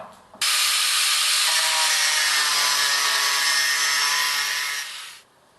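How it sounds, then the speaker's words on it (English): An angle grinder grinding down the metal bars of a table base, a loud harsh whine starting abruptly and held steady for about five seconds before tapering off. "we're just going to grind that down with an angled grinder"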